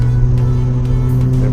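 Mazda RX-7 FD rotary engine running loud and close with a steady, droning, buzzy tone as the driver applies light throttle.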